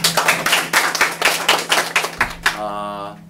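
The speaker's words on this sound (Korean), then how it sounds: "한번 박수 한번 주세요" A live audience at a Korean talk show on the digital divide claps in a brisk, loud burst of overlapping hand claps that ends abruptly, followed by a voice.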